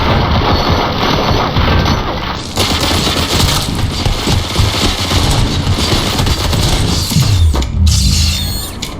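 Dense, continuous gunfire from a battle in the shooter RoboCop: Rogue City, with rapid automatic bursts and sharp impacts running loud and close for the whole span, plus a mechanical clatter near the end.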